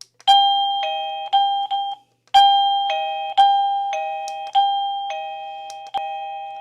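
A series of electronic chimes from an Avantek wireless doorbell, each a bright two-tone ding-dong, sounding one after another with short gaps, close and clear with no other noise.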